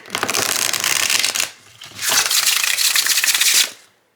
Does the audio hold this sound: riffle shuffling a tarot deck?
yes